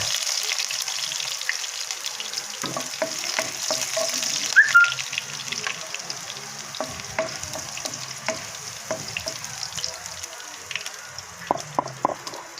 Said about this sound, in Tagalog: Tapos maggigisa na tayo mga kabakyard. Yung ating bawang